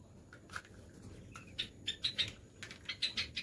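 Pet pigeons, cockatiels and quails in a home aviary give faint, scattered high chirps and tweets, a few brief calls clustering in quick bursts, fairly quiet and without talk.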